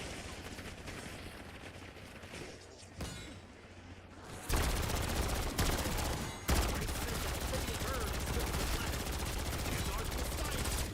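Automated turret in Black Ops 6 Zombies opening fire, a dense, loud continuous barrage of rapid shots that kicks in after a quieter stretch and keeps hammering to the end, with a voice heard along the way.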